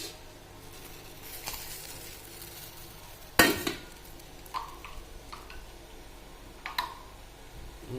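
A frying pan set down on a home kitchen stove for tempering gives one loud metallic clatter midway, with a few lighter clinks of pans and utensils around it and no talking.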